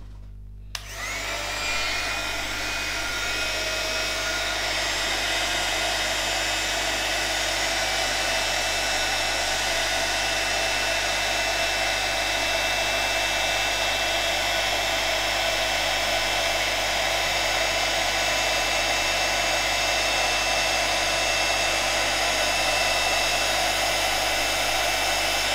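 A craft heat tool runs steadily on heat-setting sprinkled craft powder, a continuous loud blowing whir with a steady hum that holds unchanged for the whole stretch, with no talk over it.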